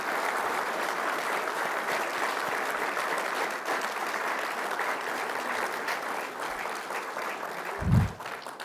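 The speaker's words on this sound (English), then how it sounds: "And I want you to give yourselves a round of applause." A standing audience in a conference room at an industry address applauds, a steady even roar of clapping held for several seconds, with a brief low thump near the end.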